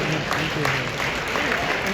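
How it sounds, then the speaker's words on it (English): Audience applause at a Podfest 2025 keynote session, a steady dense wash of clapping filling the whole stretch at moderate level, with some voices mixed in. "Let's give a round of applause."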